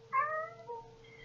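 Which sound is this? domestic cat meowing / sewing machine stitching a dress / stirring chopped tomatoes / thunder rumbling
domestic cat meowing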